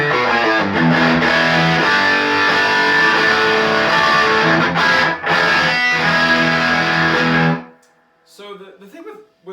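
A thick electric guitar through a Tube Screamer overdrive pedal into a Fender '65 Princeton Reverb Reissue amp rings out with sustained distorted chords, loud and close, then cuts off abruptly near the end.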